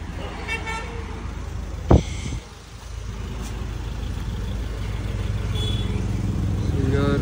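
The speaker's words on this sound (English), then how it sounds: "A car is over here." Car pulling in at a petrol and diesel fuel stop, engine rumbling nearby with a sharp horn toot about two seconds in, followed by steady idling and traffic.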